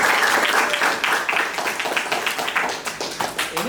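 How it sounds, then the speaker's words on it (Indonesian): Classroom applause from a group of students, a steady burst of many hands clapping close by that gradually thins into scattered claps over a few seconds. "Tepuk tangan."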